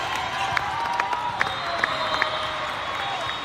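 A crowd at a volleyball match cheers and whoops with scattered claps and shouts, a dense, continuous roar from a gym full of spectators.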